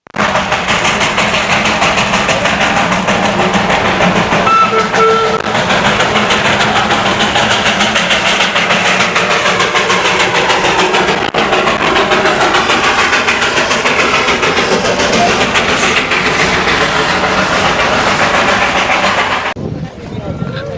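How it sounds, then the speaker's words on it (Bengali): Darjeeling toy train running in steady rain and mist, a continuous loud rumble with rail clatter and engine noise lasting the whole stretch before cutting off near the end, with no talk over it. "যে টয় ট্রেনটা"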